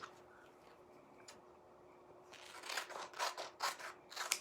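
Scissors trim paper for a Christmas craft, first quiet, then a run of crisp close snips in a quick irregular rhythm.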